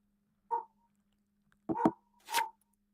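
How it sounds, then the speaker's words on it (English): A dog barks three times in the background during a poker game: one short bark, then a quick double bark, then a final bark. The barks are separated by pauses over a steady low hum. "The dog in the background loves the call"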